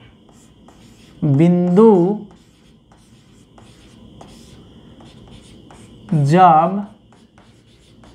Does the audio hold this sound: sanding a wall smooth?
no